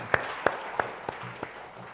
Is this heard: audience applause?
yes